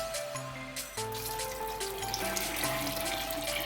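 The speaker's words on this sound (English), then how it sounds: "I will add water to cover it" Water pours steadily from a tap into a pot of maize on a gas stove, a continuous splashing fill under some tonal background noise.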